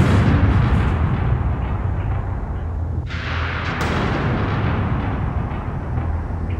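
A Napoleonic-era cannon fires at a Waterloo reenactment, its heavy roar and rumbling wash filling the air, followed by another sharp report a few seconds later and a long fading echo.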